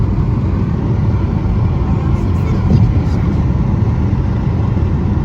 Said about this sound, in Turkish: gidiyor lan araba rampa aşağı.